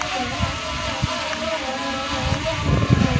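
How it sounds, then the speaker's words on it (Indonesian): Strong wind over cloudy, overcast mountains makes a steady, loud broadband roar with occasional low thumping gusts that swell toward the end. "anginnya sedikit kencang ya, sedikit berbahaya sebenarnya kalau kencang ini"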